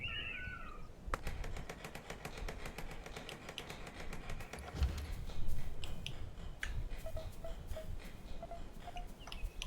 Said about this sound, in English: You can hear some cat noises